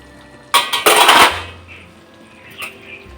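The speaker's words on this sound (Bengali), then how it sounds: "তিন চার মিনিট হয়ে গেছে ঢাকনাটা খুলে দিচ্ছি" Metal lid lifted off a cooking pot of simmering ridge gourd, a sharp clatter and scraping rattle lasting under a second, followed by a faint softer clink afterward.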